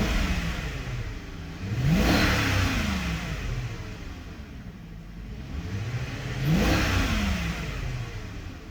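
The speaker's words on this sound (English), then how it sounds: "Roll down the window, get some revs inside the car." Range Rover engine heard from inside the car with a window down during a cold start, revving twice in smooth rising-and-falling sweeps over a steady idle rumble, moderately faint.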